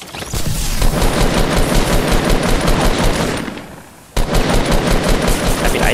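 Loud, rapid automatic gunfire in Fortnite rattles in a sustained stream, eases off into a brief gap, then snaps back in with more fast, close shots.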